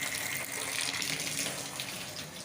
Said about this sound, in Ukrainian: Давайте відкриємо гарячу воду. Гаряча вода увімкнулася. Напір гарний.